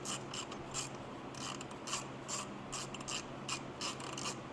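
A ratchet wrench clicks steadily in quick, even bursts as it backs out a long bolt during a car's timing belt change, close and fairly quiet with no talking.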